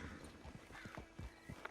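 Horse hooves clip-clopping in Red Dead Redemption 2, a steady series of distinct hoof strikes at a walking rhythm, fairly close and moderately loud, with a faint whinny near the end.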